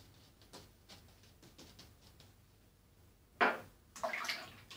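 A razor is rinsed under running water between passes of a moustache shave, giving a couple of brief, close splashing gushes after quiet faint handling sounds.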